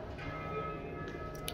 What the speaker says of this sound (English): it's so late, the bells are ringing, right?